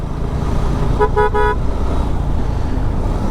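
A motorbike horn on a road near Cox's Bazar gives a quick series of short toots over steady engine and traffic rumble.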